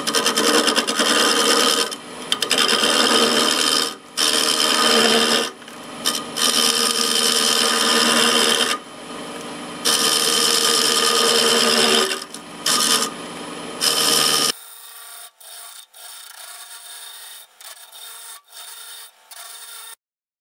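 Wood lathe turning a segmented wood blank at about 600 RPM, a loud steady rasping scrape of the tool on the spinning wood in long bursts with brief pauses, ending in quieter, thinner scraping over the final seconds.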